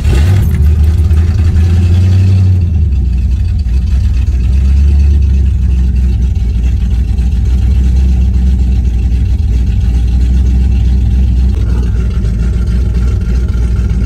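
A Fox Body Mustang engine idles loudly and close, with a rev at the start before settling into a steady, rumbling idle for the rest of the stretch.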